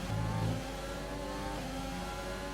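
F1 racing cars in F1 2020 accelerating away on a safety car restart: a steady, high engine whine rising in pitch, with a loud opening burst of revving that settles into a sustained drone.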